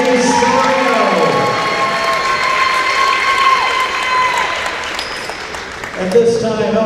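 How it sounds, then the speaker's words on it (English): An audience claps and cheers at a university volleyball senior night in a gym, with sustained loud applause and crowd noise over a tonal hum from the arena. "Please, a round of applause for number 21, Allie Serrano."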